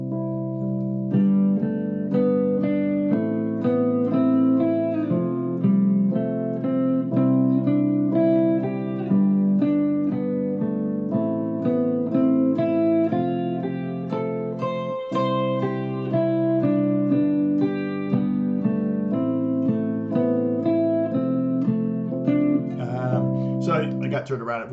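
Guitar plays a practice exercise of four-note 1-2-3-5 patterns over each chord of a progression, clean and steady, notes ringing in even runs for about twenty-five seconds with no talking.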